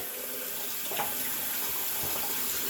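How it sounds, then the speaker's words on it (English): Water draining from a bathroom sink after a shave, a steady, close rushing and gurgling wash that stays fairly quiet and even throughout. "Drain the old sink."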